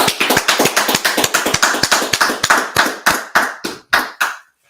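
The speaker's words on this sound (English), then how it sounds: "let's clap it up" Sharp, distinct hand claps from a small audience, fast and evenly spaced at first, then slowing and spreading apart before stopping, close and loud with nothing underneath.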